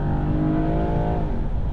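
A Maserati Quattroporte with a 400-horsepower engine runs while driving, a steady close droning engine note with layered harmonics and no speech over it.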